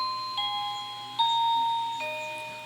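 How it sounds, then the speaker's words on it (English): An indoor doorbell rings with a series of clear, sustained electronic chime tones, three distinct notes in succession, alone without talk. "it's a doorbell. I gotta answer that."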